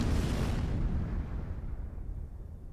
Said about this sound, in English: And the ship is still exploding. It's split in twain. The bottom half is exploding something.